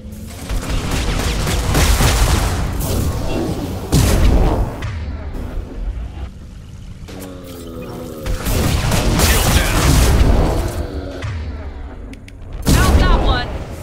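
Weapon fire in the video game Mass Effect 2, with loud bursts of booming shots and crashes around the start, middle and end, and quieter mechanical game sounds in between.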